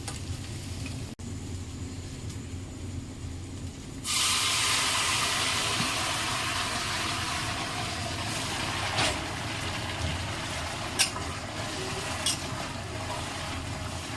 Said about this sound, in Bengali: এবারে জলটা দিয়ে দেবো